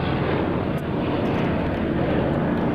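A World War II warbird propeller plane flies past at the 2003 Dayton airshow with a loud, steady engine roar that fills the whole stretch without any break.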